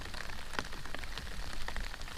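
Steady rain falls in Kentucky woods, a constant hiss of drops on surfaces with scattered louder patters close by.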